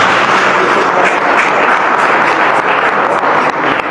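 Audience giving a presenter a big round of applause at an event at Liberia's Roberts International Airport, dense continuous clapping from many hands, loud and close, sustained evenly without talk.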